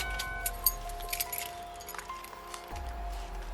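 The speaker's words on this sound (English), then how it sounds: "Turn off the car and pass me the keys" Car keys jangle and clink lightly in short bursts over a low idling car engine hum that cuts out partway through, during a traffic stop.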